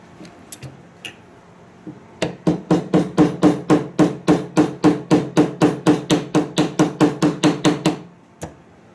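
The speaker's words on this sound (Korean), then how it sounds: "아까 뺐을 때 요 기어를 망치로 톡톡 때리면은 그냥 쏙 빠져요" A hammer taps a small gear from an airsoft BB gun's bolt assembly (GBLS GDR15/GDR416) about twenty times in a steady, even rhythm. The taps are close and crisp, with no talking.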